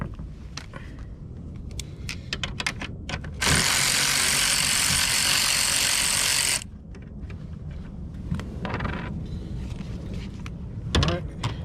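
A ratchet removing 14mm bolts on a 2013-16 Cadillac ATS 2.0T, close and loud: quick clicking pawl bursts around a sustained several-second ratcheting run, with a person talking nearby.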